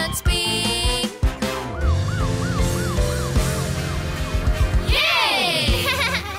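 A cartoon ambulance siren wails in a repeating up-and-down pattern over a bouncy children's song, loud and close, ending in a rising whoosh.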